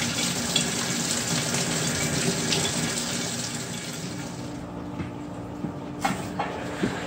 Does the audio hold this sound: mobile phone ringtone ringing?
no